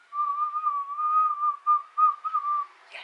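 A person whistles one sustained, slightly wavering note for a few seconds, ending in a soft breath.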